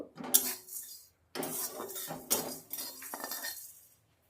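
Freshly fried spice mix scraped out of a karai into a bowl, metal utensils clinking and clattering in several close, bright bursts separated by short pauses.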